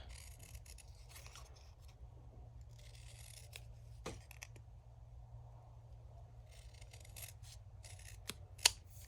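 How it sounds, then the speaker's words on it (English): Scissors snip through paper scraps while making ticket ephemera, giving a series of quiet, crisp, irregular cuts over a soft, steady background hiss, with one sharper snip near the end. "I'm just going to use the scissors."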